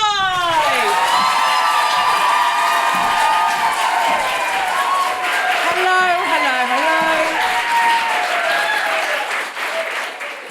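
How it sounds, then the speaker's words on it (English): Live audience at a comedy podcast recording giving loud, sustained applause with cheering and whoops for Deborah Frances-White, a dense roar of many hands and voices that fades slightly at the end. "please clap your hands with an Oprah Winfrey audience member level of intensity for Deborah Frances-White"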